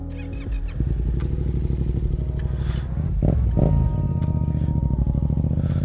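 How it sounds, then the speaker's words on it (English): A Yamaha XSR700 motorcycle is ridden along with a steady, close engine drone that briefly revs up and settles, loud throughout without any talk. "Let's go for a little bit more of a spin."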